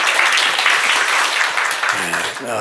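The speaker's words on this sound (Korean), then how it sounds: "I didn't ask for applause, but everybody's applauding him." A church congregation applauds during a worship service, dense steady clapping filling the space throughout, with a few voices rising near the end.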